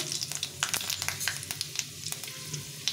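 Two dried red chillies and five-spice seeds crackle and sizzle in hot oil in a pan, with a steady close hiss broken by sharp, irregular popping.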